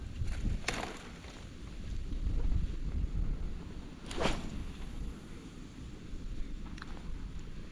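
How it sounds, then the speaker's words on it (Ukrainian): Steady wind rumbling across an outdoor microphone, gusting up and down, with a few sharp brief knocks. "О, теж сильний, досить боковий вітер."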